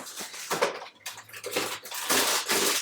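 Pasta cooking in a pot of boiling water in a home kitchen, a loud, continuous bubbling and sputtering that swells and ebbs in bursts with no talking.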